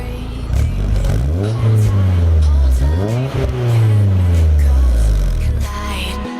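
A Nissan S15 being moved: a loud, close engine revs up and down in several sweeping pulls, then settles back toward idle near the end.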